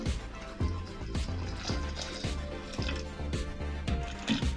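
Melted jaggery syrup dissolved in water being poured into neyyappam batter, giving a soft repeated squishing, dribbling sound up close and faint, with a steady rhythm of wet pulses.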